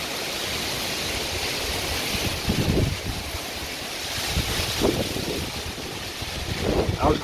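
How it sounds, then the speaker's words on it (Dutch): Strong gusty wind during a rain squall roars and buffets the microphone, swelling and easing in several heavy bursts over a constant rushing hiss. "Wat een wind, man."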